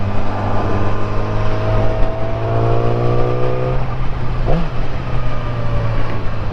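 A 2014 Yamaha R6 600cc sport bike engine drones steadily and loudly, its pitch climbing through the revs with a brief dip near the end, no voices present.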